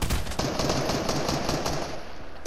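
Rapid automatic gunfire in the Fortnite battle royale game, Chapter 2 Season 3, crackles loudly and continuously, dense bursts overlapping with game effects for the full stretch.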